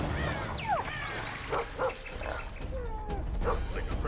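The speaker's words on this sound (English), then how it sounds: "That's Grindley's dog." In The Witcher 2 game, a dog gives several short yips, barks and whimpers at close range over a low ambient bed.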